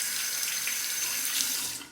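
Steady water runs from a tap for rinsing a razor, a constant close hiss with no voices.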